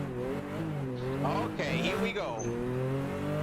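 A 1974 Porsche RSR 3.0 engine in the Assetto Corsa racing game revs and climbs in pitch, its harmonic drone steady and close, while someone speaks briefly over it.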